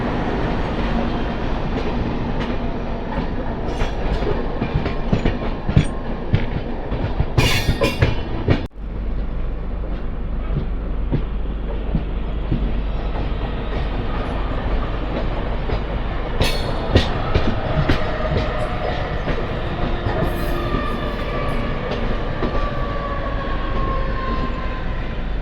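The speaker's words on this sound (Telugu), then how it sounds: "ముంబై లోకల్ ట్రైన్స్ అలా తిరుగుతూనే ఉంటాయి." Mumbai local trains rumble past continuously, with loud steady rail noise, rhythmic wheel clatter and occasional high squeals and screeches from the wheels, nearby and without talk.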